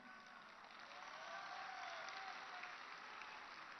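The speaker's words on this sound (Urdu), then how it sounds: "دیکھو ایس پی صاحب آپ کو تالی مار رہے سب لوگ، لاہور کے لوگ" An audience at a lecture in Lahore applauds with steady, dense clapping that swells slightly and holds, heard faintly as if from a distance.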